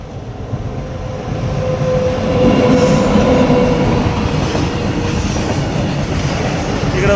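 A train rumbles past a railway crossing, loud and close, with steady wheel clatter and faint squealing building and holding throughout.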